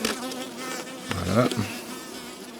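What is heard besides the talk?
honeybees buzzing around a hive box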